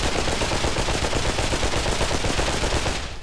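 Rapid automatic gunfire from a rifle such as an AK-47 or P90 in the VR shooter Pavlov VR, a dense loud unbroken burst lasting about three seconds and cutting off at the end.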